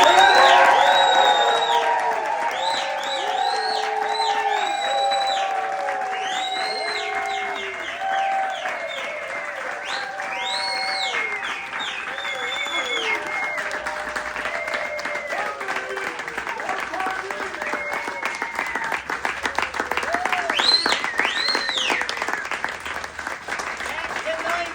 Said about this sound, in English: cheer as loud as you can